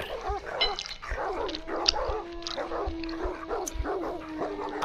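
Dogs bark repeatedly in the Dracula Love Kills video game, a steady run of sharp barks and yips with a low sustained tone beneath.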